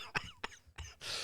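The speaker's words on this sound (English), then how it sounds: "Why am I coughing?" A few short, sharp coughs spaced out over about a second, close to the microphone, followed by a brief hiss of breath.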